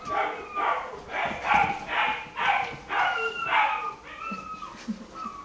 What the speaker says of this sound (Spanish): Mira la otra cabrona como ladra